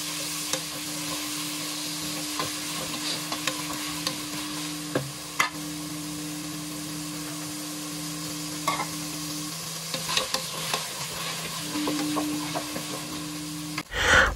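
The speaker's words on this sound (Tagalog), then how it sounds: "Nagpainit na po ako ng mantika at ilalagay ko na po ang patatas." Potato cubes fry in hot oil in a pan while cooking beef kaldereta, a steady close sizzle with occasional stirring knocks throughout and no talking.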